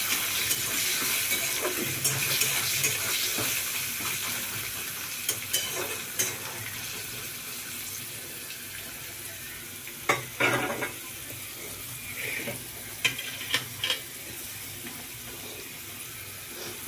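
Chickpeas frying with cumin in a pan, a soft steady sizzle broken by scattered knocks and scrapes of stirring, with a few sharper clinks toward the end.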